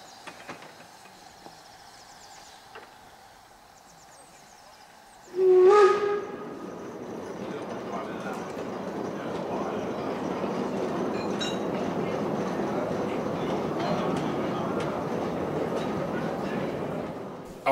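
A 1934 Orenstein & Koppel 0-8-0 narrow gauge steam tender engine sounds a sharp, loud whistle blast, then its train rolls on with a steady rumbling clatter that builds and holds, with speech over it.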